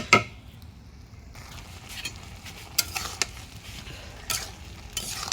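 A tilapia fish curry with vegetables bubbles in a pan as a spoon stirs it. Intermittent scraping strokes and soft clinks rise over a low sizzle. A sharp knock opens the sound, and there is no talk.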